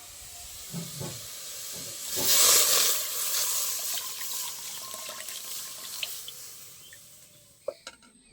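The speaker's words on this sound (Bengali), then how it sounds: "আর এই যে দুধটা আমি আগে থাকতে জাল করে ঘন করে নিয়েছি। এবার কড়াইয়ে দিয়ে দেবো।" Thickened milk poured into a hot wok, a steady broad hiss and steam that swells early and then eases into a continuous simmering rush, with a few small clanks near the end.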